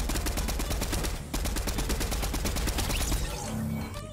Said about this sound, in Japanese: 銃声したら一緒に撃つ